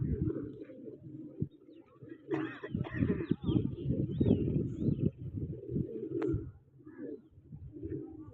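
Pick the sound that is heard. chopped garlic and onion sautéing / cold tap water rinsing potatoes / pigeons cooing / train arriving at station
pigeons cooing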